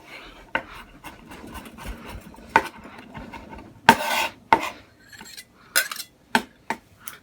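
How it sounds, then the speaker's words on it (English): A knife rocking back and forth to mince garlic on a wooden cutting board, giving irregular sharp knocks and scrapes spaced over several seconds, close and moderately loud with no talking. "Then I'm going to go back and forth over with the knife to mince it."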